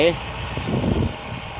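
A Ford 6640 turbo tractor engine runs with a low, steady rumble in a sugarcane planting field, sitting underneath a voice throughout the short stretch.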